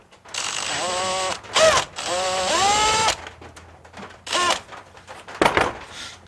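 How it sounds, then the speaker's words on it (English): A drill bit countersinking an existing hole for an extension cord and air hose storage rack, with several short bursts of whirring drill motor, rising and falling in pitch, near and loud, separated by brief pauses. "I'm just going to take another drill bit and go into that hole right there just to countersink it a little bit"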